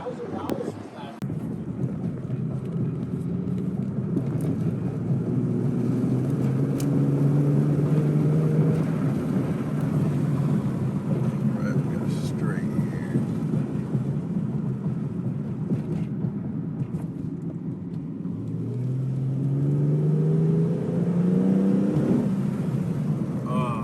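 A Nissan 370Z sports car drives on a hot day, its low engine rumble and road noise steady throughout with two rising revs as it accelerates, while someone talks over it much of the time.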